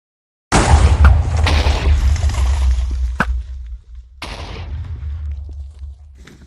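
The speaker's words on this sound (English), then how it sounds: "just waiting for the final explosion here" A final explosion in hardcore Minecraft: a sudden loud boom that erupts and rumbles on, followed by a second blast and a long fading roar.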